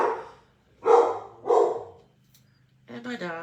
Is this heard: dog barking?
yes